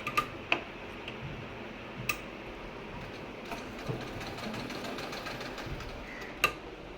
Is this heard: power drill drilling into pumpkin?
no